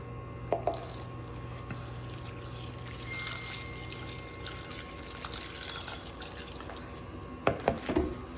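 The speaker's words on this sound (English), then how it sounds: "And I'm just gonna pour it over until it covers the onions." White vinegar poured from a bottle over sliced onions in a kitchen container, a soft continuous trickling splash at low level with a few louder glugs and clinks near the end.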